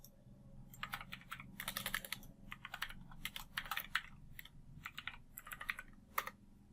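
Fingers type a password on a computer keyboard in quick, irregular bursts of clicky keystrokes, close and quiet, with short pauses between groups and a low room hum beneath.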